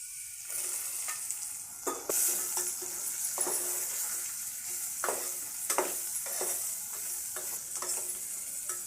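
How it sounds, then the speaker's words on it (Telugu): Boiled, dried brinjal strips fry in oil with onions and turmeric under a loud, continuous sizzle, while a spoon scrapes and stirs the pan repeatedly in uneven strokes. "నూనెలా జరసేపు ఉడకాలి నూనెలా జర ఉడికితే మంచిగా ఉంటుంది"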